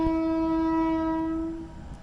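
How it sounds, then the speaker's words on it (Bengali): A steady, loud horn-like tone with strong harmonics holds for most of the clip, then fades slightly as a train sounds in the distance. "ট্রেন যাচ্ছে"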